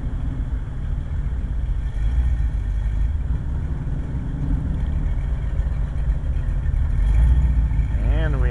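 A 1961 fuel-injected Corvette pulls away slowly at Laguna Seca, its low engine rumble steady and close, swelling slightly near the end, with talk running over it.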